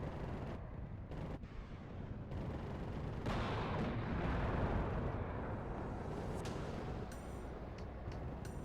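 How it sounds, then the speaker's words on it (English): Heavy artillery fire rumbles in the WARNO real-time strategy game, a sustained, loud roar of blasts building midway and lingering, with a few sharp distant reports near the end. "Use my artillery."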